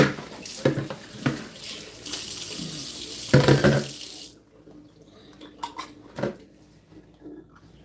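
Tap water runs steadily into a kitchen sink while produce for a green juice is washed and rinsed, with splashing and a few clinks of dishes before the flow stops and scattered drips and handling sounds remain.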